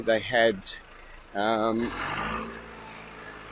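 A truck passes outside with a low, broad engine rumble that swells after a man's speech, moderately faint and filling the background.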